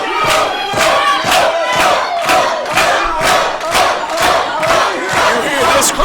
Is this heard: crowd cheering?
yes